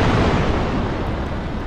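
A Stinger missile launches from an M6 Linebacker SAM vehicle in the DCS World combat game, a loud continuous rushing roar that holds steady for nearly two seconds, with no voices over it.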